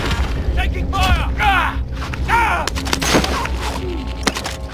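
Gunfire and explosions in the Call of Duty Warzone video game, in Plunder quads mode, with repeated shots and booms under voices and game effects throughout.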